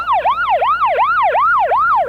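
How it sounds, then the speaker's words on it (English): A police car siren wails in a steady, loud cycle of about six rising-and-falling sweeps, heard up close and on its own with no talk over it. "That police car is leading us to our next question."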